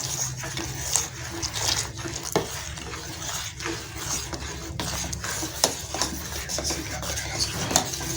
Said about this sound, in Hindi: अब इसके अंदर हम कस्टर्ड पाउडर वाला दूध इसमें शामिल करते जाएंगे और तेजी से चम्मच हिलाते जाएंगे।